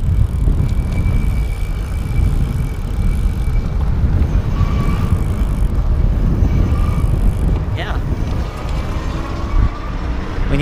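Voltbike Yukon electric fat-tire bike pedalled on a ride, a steady loud rumble of wind and tire noise throughout with faint motor whine rising briefly, no talk.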